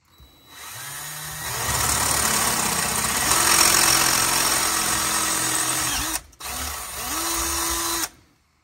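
Cordless drill with a low torque-limiter setting, driving a part on a CFMOTO U10 starter solenoid in short bursts: a loud, close whirring run that rises in pitch, breaks off briefly, then spins again before stopping.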